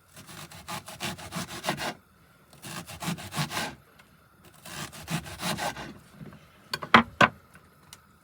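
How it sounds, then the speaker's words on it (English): Knife slicing onion for a mushroom burger in a van kitchen, three rasping, sawing bursts of close cutting, followed by a couple of sharp knocks. "Then we'll chop in a couple slices of onion"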